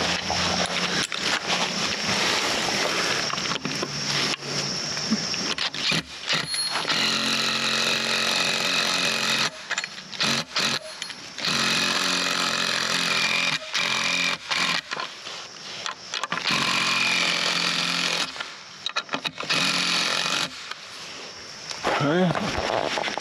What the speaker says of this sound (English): If that doesn't work, I've got an impact wrench so I can take it the rest of the way.